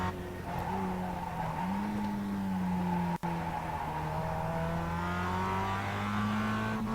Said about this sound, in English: then I get on the throttle and increasing when tracking out